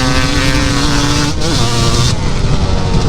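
A custom-built 350 ATV with a custom chassis, extended swing arm and Scat Track paddle tires revs loud and close, its engine note dipping briefly before climbing again in a harsh, continuous roar.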